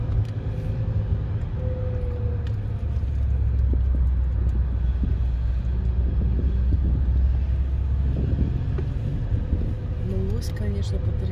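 A car pulls away and drives on along a rural road, a steady low engine rumble with wind noise running throughout, and a person speaking over it.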